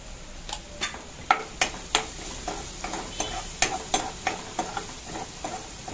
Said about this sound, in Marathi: असा मसाला परतवून घ्यायचा आहे।